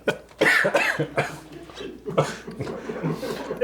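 A man coughs repeatedly in short, rough bursts close to the microphone, with some throaty, chuckle-like sounds mixed in.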